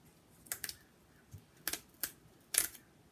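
A paper zipper strip on a die-cut inlay gift card tag is pulled open in a few short, crisp tearing rips, close and fairly quiet, with brief pauses between them.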